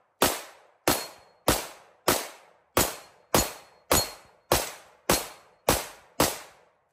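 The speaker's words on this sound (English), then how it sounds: "About to take some shots with this one and see what he thinks." Eleven sharp pistol shots from a Canik TP9 SFX ring out at an even pace of roughly one every half second, each a loud crack with a quick decaying tail.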